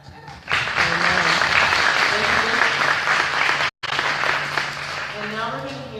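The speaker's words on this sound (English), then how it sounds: "So we should applaud that too." Audience applause at an AmeriCorps annual swearing-in ceremony, steady crowd clapping lasting several seconds with a brief break, and voices talking underneath.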